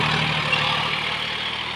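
A John Deere 5105 tractor with a 40 HP engine runs at a steady 1600 RPM in first gear high range, giving a loud, constant, close diesel drone with no talk.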